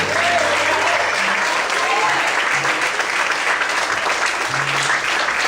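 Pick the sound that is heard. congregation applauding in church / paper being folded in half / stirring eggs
congregation applauding in church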